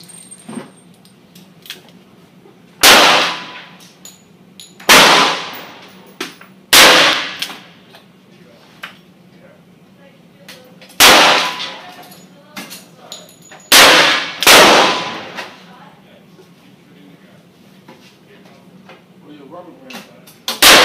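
Gunshots ring out at an outdoor shooting range, six sharp loud reports spaced a few seconds apart, some in quick pairs, with quiet pauses between them.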